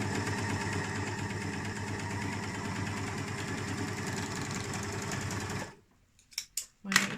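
A serger overlock sewing machine stitches fabric with a fast, steady mechanical whir and chatter that runs close and loud for several seconds, then stops abruptly, followed by a few faint clicks and handling sounds.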